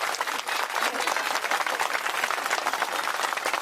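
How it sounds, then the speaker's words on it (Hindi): A crowd at a village fair rally bursts into sustained, dense clapping, loud and continuous throughout as a speaker is welcomed. "जोरदार ताली से स्वागत करो"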